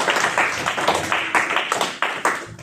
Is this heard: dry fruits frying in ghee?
no